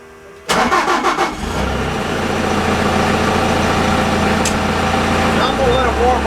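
Toolcat diesel engine turning over and catching after the glow plug wait, settling straight into a steady, loud, close idle with a deep low rumble that carries through to the end.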